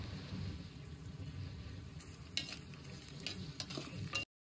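Chana dal frying in hot oil tempering while cooking a cauliflower and potato curry, a steady low sizzle with scattered crackles and a few sharp stirring clicks near the end, no voices.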